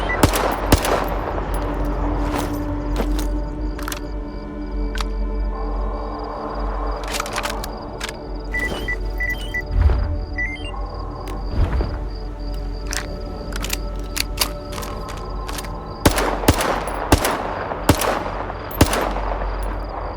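A new modded gun firing in S.T.A.L.K.E.R. 2, with sharp single shots and short bursts scattered across the clip, close and loud over a low ambient hum and mechanical clicks.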